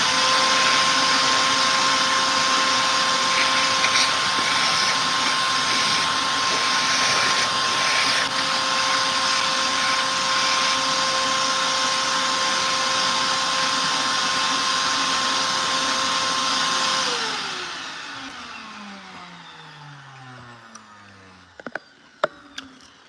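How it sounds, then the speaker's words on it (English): A vacuum cleaner runs with a steady, loud whine for a long stretch, then switches off and winds down, followed by a few light knocks. "I'm going to turn on the vacuum real fast, clean this up."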